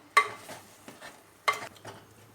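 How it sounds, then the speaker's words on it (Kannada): A spoon stirs fish curry in a pot after salt goes in, making two distinct scraping clinks about a second apart, each followed by softer shuffling, faint and close. "ಉಪ್ಪು ಪಾಡ್ದು ಮಿಕ್ಸ್ ಮಾಡ್ಪುಗ"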